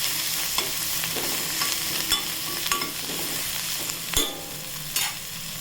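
Sprouted moong with turmeric stir-fried in a pan: a steady sizzle runs throughout, with a handful of sharp scraping stirs of the spatula against the pan, no voices.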